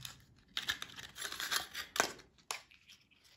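Scissors cutting material to size to hold a mirror for a homemade flashlight, a few quiet close snips and rustling crinkles with small pauses between cuts.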